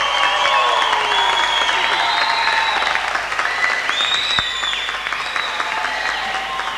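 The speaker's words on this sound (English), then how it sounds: "you're getting a tremendous round of applause here in the Auckland Town Hall" Big crowd applause fills Auckland Town Hall during the 1985 New Zealand Telethon, steady and sustained with cheering and whistles threaded through, loud and close.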